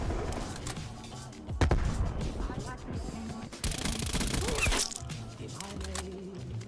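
Rapid bursts of gunfire and explosions from a strafe run in Call of Duty: Black Ops Cold War, with dense crackling volleys and booming impacts mixed under game sounds and players talking.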